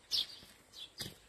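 Birds chirp outdoors on a green-onion farm in Hwacheon: a few short, high tweets in quick succession, moderately close against a quiet background.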